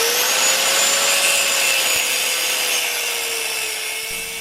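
A power saw cuts through plastic pipe in one loud, continuous whining drone with a steady pitched tone, close and alone, tapering slightly near the end.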